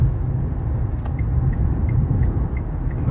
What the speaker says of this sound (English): Lots of tractor trailers always crossing this bridge every single day.